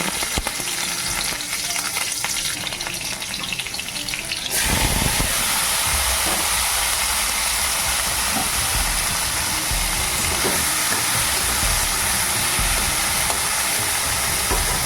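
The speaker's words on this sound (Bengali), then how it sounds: "কড়াইতে একটু ইয়ে তেল দিয়ে পাঁচফোড়নটা দিয়ে দিলাম আর এবারে উচ্ছেটা দিয়ে" Bitter gourd fries in a pan of hot oil with five-spice, giving a loud, continuous sizzle and hiss. It surges sharply as the gourd goes in, then holds steady with faint stirring clatter.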